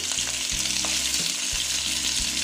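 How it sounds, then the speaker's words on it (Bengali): Pieces of chital fish fry in oil in a pan with a steady, close, dense sizzle and faint spatter throughout, with no talking. "মাছটা প্রায় ভাজা হয়ে গেছে।"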